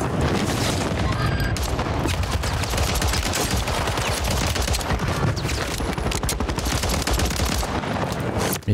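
Pistol fire in Call of Duty: Warzone, a dense, loud run of rapid shots with explosive booms mixed in. The firing keeps going for about nine seconds with hardly a pause.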